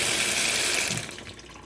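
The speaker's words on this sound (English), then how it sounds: "Run some cold water over them." Cold water runs from a kitchen tap over freshly boiled eggs, a steady close splashing stream that fades out near the end.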